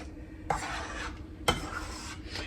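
A large batch of eggs is stirred and scraped in a pan over medium heat, with a steady soft sizzle under two distinct scraping strokes of a utensil against the pan.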